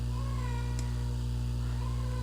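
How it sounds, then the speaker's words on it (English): A cat gives a couple of faint, drawn-out meows indoors over a steady low electrical hum. "here comes my cat."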